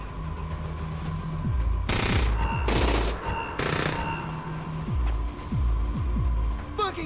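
Rapid gunfire bursts crackle in Splinter Cell Conviction, several loud sharp volleys separated by brief gaps over a low rumbling game backdrop, with scattered thuds and clicks.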